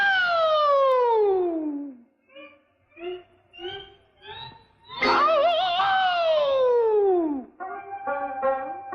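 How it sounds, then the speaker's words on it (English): Cartoon air raid siren demonstration in a Japanese propaganda spoof, a loud wailing tone sliding downward, then short stuttering bursts, then another long falling wail and choppy tones. "We are now privileged to witnessing demonstration of Japan's finest air raid siren"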